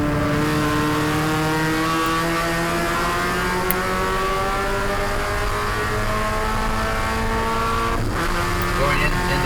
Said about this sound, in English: Goring in the 11, right at the moment, trying to keep Steyn behind him and drafting that long back straightaway headed towards Dave Miller.